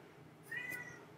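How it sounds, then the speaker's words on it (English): A single short, faint meow from a cat nearby, rising briefly over a quiet room. "that's my cat."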